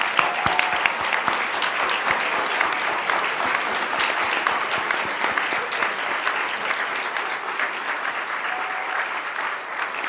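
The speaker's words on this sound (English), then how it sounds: "let's give them a big round of applause" A large audience at the Bloomberg American Health Summit gives sustained, even applause to the fellows as they stand, a dense wash of clapping that holds steady for the whole stretch without talking over it.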